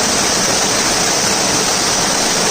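Rushing water at Sadashivgad waterfall, a loud, close, unbroken roar of falling water with no voices or pauses.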